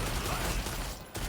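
A turret shooting attack in the video game Lost Ark sounds as a dense, continuous volley of rapid gunfire bursts, loud and close, with a brief dip near the end.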